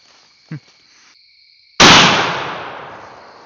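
One loud rifle shot fired at a Russian boar while hunting cracks out sharply and rolls away in a fading echo, after a brief faint thump, with no talk.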